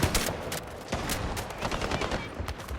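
Rapid bursts of automatic gunfire from the video game Highguard, loud and dense, crackling repeatedly across the whole stretch with short gaps between volleys.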